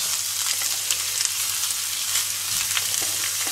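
Cabbage sizzles steadily in a hot pan, a continuous crackling hiss with small pops, close up and without voices.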